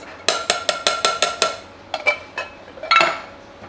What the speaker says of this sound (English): I need my can opener.